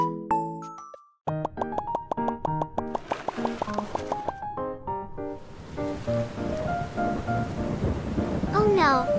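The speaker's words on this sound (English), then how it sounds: "Oh no, it's raining." Thunder rumbles over steady rain pattering on surfaces, mixed with bright musical chimes and tones, the storm building louder toward the end.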